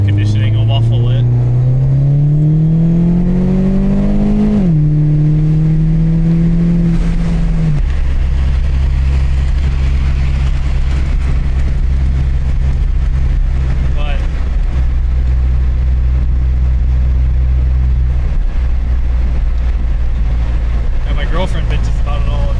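Inside the cabin of a 2010 Mini Cooper S R56 fitted with an iNVIDIA Q300 exhaust, windows up, the engine note climbs in pitch, drops at a gear change, then settles into a steady low droning hum while cruising.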